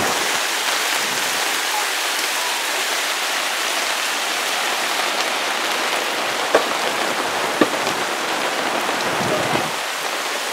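Rain falls steadily on a campsite in the Rocky Mountains, a loud, continuous hiss with a few sharp drips and taps landing close by and no talking.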